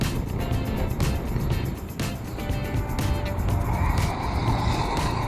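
A motorcycle overtakes on a road from Kolkata toward Nepal, its engine rising and passing close by over the steady roar of wind and road noise from the rider's own bike.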